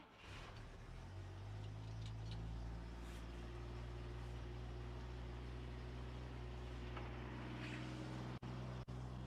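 Six-cylinder engine of an International Harvester 1200 long-bed stepside pickup idling steadily nearby, a deep, even low rumble throughout with no talk.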